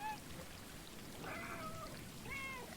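A cat meows a few times in the game Stray, faint, layered over a steady rain-like hiss in a ruined city.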